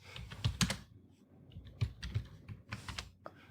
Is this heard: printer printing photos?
no